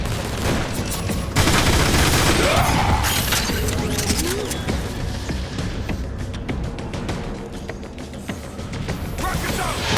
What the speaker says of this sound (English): You keep pulling the trigger, they'll keep falling down!